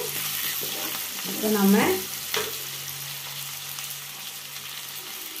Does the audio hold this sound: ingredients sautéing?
yes